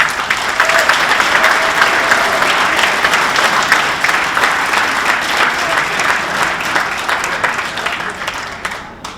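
An audience at a sports hall of fame induction ceremony breaks into sustained applause, a dense wash of many hands clapping steadily before thinning slightly at the end.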